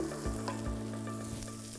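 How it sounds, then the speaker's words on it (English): Sausage meat with fennel and garlic sizzles gently in a pan, a soft continuous fry with occasional faint stirring clicks. "Now that they're in there, you're just going to sweat this down ever so slightly until you take the bite out of the fennel."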